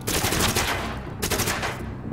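Dense automatic gunfire in The Division video game, rapid bursts rattling close and loud, a short gap, then another sustained volley with no talking.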